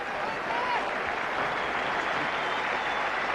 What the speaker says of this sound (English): that wicket of Mark Waugh has also got the crowd buzzing